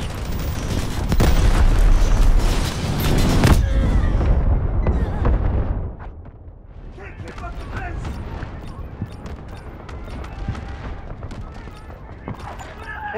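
Incoming artillery fire in the PC game Delta Force: heavy, loud booms and rumbling blasts crowd the first half, then a quieter stretch of distant thuds and crackling follows.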